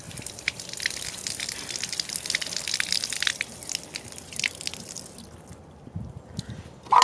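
Rainwater is poured into a waterer for baby chicks, a steady splashing, trickling stream with dripping that runs for several seconds before tapering off, then a brief knock at the end, with no voices.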